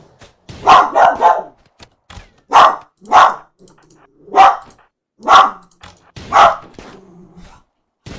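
A pet dog barks at someone seen out a window, a close, loud burst of three quick barks followed by single barks spaced about a second apart, with brief growly sounds between them.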